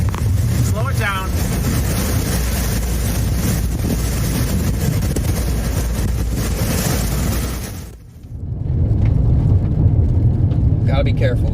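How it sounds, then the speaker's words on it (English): A strong wind roars in a heavy, continuous rush during a tornado chase in the Dakotas, loud and close against the microphone. It briefly drops away near the end before surging back. "Yep, that's a big wind."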